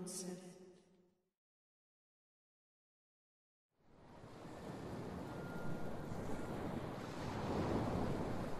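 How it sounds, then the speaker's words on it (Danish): Sea waves washing onto a beach, a continuous breaking surf with wind noise rising after a short silence, preceded by a brief burst of music. "Jeg står ved stranden og stiger ud på havet."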